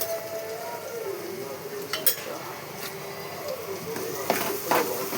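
Chili powder and salt stirred into cooked pieces in a pan, soft scraping and mixing with occasional clinks of a utensil against metal over a faint sizzle, close and moderately quiet.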